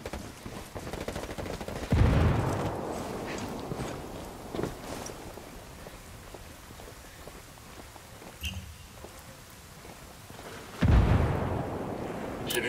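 Gunfire in the game Ghost Recon Wildlands, with dense continuous shooting throughout and heavier bursts or blasts standing out near the start and near the end, loud and close with no talk.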